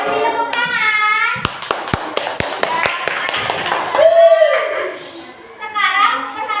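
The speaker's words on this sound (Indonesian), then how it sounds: "Kasih tepuk tangan." A burst of scattered hand claps from a primary-school classroom of young children applauding a group's project, lasting about two seconds between stretches of a teacher's and children's voices.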